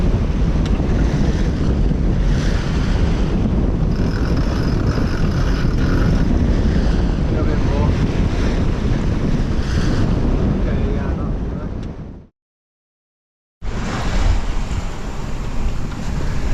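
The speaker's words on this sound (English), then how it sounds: "More wind than I thought today." Steady wind rush and breaking waves surround a sailboat running in trade winds, a loud continuous roar with a brief dropout near the end before it resumes.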